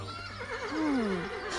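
A horse whinnies nearby, a single wavering neigh that rises then falls away, fairly clear against a quiet background.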